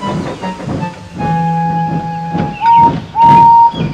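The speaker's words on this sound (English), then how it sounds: "What are you doing with that goods train?" A cartoon steam locomotive pulling a goods train, from Thomas & Friends, chugs along the rails with a rhythmic hissing chuff, then sounds two loud, sustained whistle blasts near the end.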